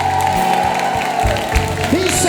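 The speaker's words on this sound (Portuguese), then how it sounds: "dá uma salva de palmas e faz barulho." A church congregation at a Pentecost vigil applauds and cheers over ongoing worship music, a brief, loud wash of clapping and crowd noise.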